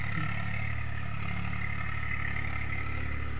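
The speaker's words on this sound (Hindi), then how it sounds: "ट्रैक्टर चल रही है, जोता रही है खेत।" A tractor ploughs a farm field in light rain, its engine a steady, continuous mid-distance drone with a clattering rumble that holds level throughout, no voices over it.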